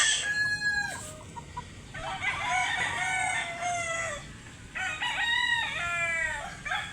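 Young gamefowl roosters of a blues line, eight to nine months old, crow loudly and repeatedly, with several overlapping cock-a-doodle-doo calls nearby and clucking between them.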